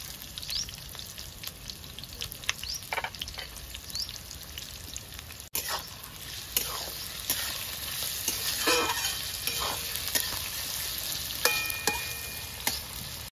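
Chicken and onions, salted, sizzling steadily in a pan at a fairly low level while a spoon scrapes and stirs in irregular strokes, with occasional pops and drips, no talking.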